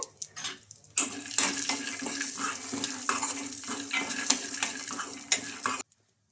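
Peanuts roast in oil in a pan, stirred with a busy rattling, scraping sizzle, close and moderately loud, before stopping abruptly.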